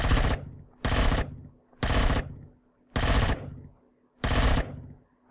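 Five evenly spaced, sharp sniper rifle shots ring out in the video game Empyrion Galactic Survival, each a loud crack with a short decaying tail and near silence between them.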